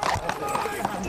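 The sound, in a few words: horse hooves fidgeting on parade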